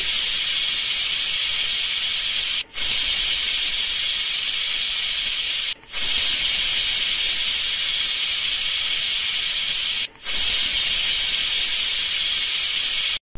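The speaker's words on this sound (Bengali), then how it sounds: "ব্যাস এবার ঢাকা লাগিয়ে আমি চারটে সিটি দিচ্ছি" A pressure cooker boiling mutton releases a loud, steady hiss of steam, broken by three brief drops before resuming, with no voices.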